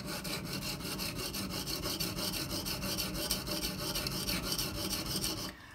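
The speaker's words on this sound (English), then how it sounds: "What I'm doing here is I'm putting pressure directly over the spot I need to grind." A Microtech Socom Elite knife with a CTS-204P blade is sharpened on a diamond stone, a steady close rasping rub in quick back-and-forth strokes that stops abruptly at the end.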